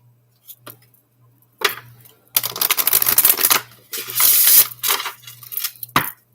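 Tarot cards being shuffled into stacks for a reading, with scattered soft taps followed by bursts of riffling and sliding card noise, close and crisp, with brief pauses between handfuls.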